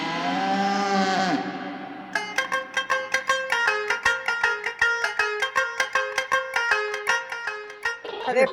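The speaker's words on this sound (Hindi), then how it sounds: "अरे प्रबल, तू बकरी बेचकर भैंस खरीद लाया?" A water buffalo gives a long, drawn-out low, loud and close, then gives way to a rhythmic, pulsing musical beat.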